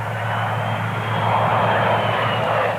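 A Bombardier CRJ regional jet's engines roar steadily and loudly, a broad continuous jet rumble with a low hum beneath, holding near-constant level throughout with no voices.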